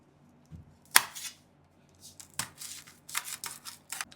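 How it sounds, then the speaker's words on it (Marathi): Green chillies are slit lengthwise with a kitchen knife, giving one sharp tap and then a few soft, scratchy slicing strokes on a board. The sounds are close and quiet, with no talking. "आता आपल्याला मिरच्या उभ्या चिरून घ्यायच्यात फोडणीसाठी."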